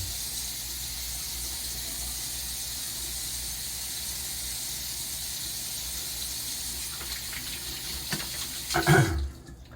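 Running water is applied to a beard during morning grooming, a steady close hiss of flow with a brief splashing, handling burst just before it stops.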